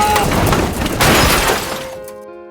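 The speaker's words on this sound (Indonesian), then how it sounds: "pembatas jalan tersebut malah hancur sehingga mobilnya terjun ke jurang" A car smashes through a road barrier and drops into a ravine, a loud shattering crash of breaking glass and metal with debris scattering, then a sudden fall into quiet with a faint lingering tone.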